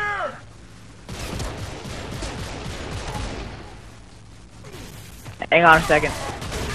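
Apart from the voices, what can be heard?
gunfire from a video game (Horde mode)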